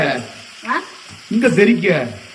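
Curry leaves splutter and crackle in hot oil in a pan, cooking for a Kerala tapioca dish; the frying noise runs in bursts under a voice talking close by.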